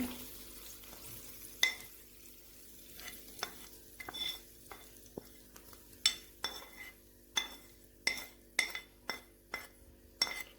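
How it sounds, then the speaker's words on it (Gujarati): Hot tempering is poured over cooked rice and stirred in, a quiet scene of repeated sharp spoon scrapes and clinks against the pot at an uneven rhythm over a faint sizzle. "આપણે વઘારને એની અંદર એડ કરી દઈશું."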